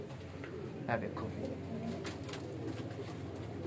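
Breeder pigeons, including a black one, coo softly in a home loft, with low, repeated coos over a steady background while someone speaks briefly nearby.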